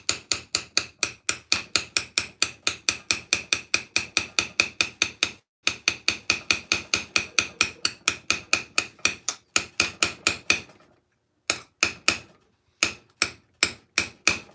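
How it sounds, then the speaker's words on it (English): Soft armour material being hammered in a garage: a long run of sharp, evenly spaced strikes, loud and close, with brief pauses near the end and no talking. "It's a little bit like hammering into leather."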